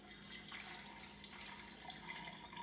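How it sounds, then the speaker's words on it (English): Cold water runs steadily into a kombucha brewing vessel, a continuous splashing pour that stays fairly constant throughout, with no voices. "I'm going to put some more cold water in first."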